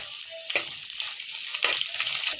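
Green chillies sizzle and fry in a pan with oil and ginger for Kerala-style fish molly, a steady close crackle with a couple of brief stirring scrapes.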